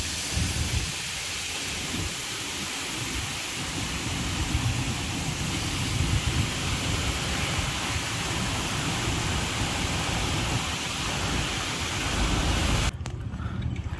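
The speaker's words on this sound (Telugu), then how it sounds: "ఇంకా మనం ఇప్పుడు వచ్చేపాటికి అత్తకాడు వాటర్ ఫాల్స్ దగ్గర అయితే ఉన్నాం" Athukad waterfalls near Munnar: a loud, dense roar of falling water fills the scene without a break, then cuts off abruptly near the end.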